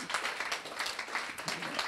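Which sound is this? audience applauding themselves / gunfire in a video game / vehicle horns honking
audience applauding themselves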